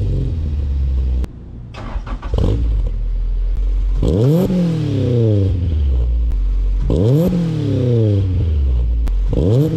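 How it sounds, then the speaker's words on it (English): A car engine with a newly installed catalytic converter starts and revs repeatedly, the exhaust rising in pitch with each throttle blip then settling back to a rumbling idle, loud and close. "this is what the exhaust sounds like after the catalytic converter has been put in"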